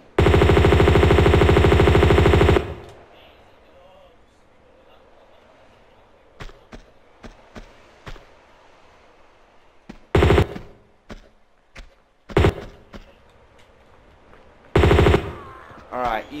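Uzi gunfire from Tomb Raider II Remastered in the Tibetan Foothills level: a loud sustained burst of automatic fire opens the clip, followed by scattered sharp single shots and several short, loud bursts spread across the rest.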